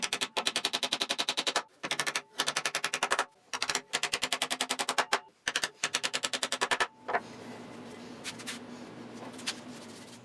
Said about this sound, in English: And then it was time to cut down and hammer in all the dowels.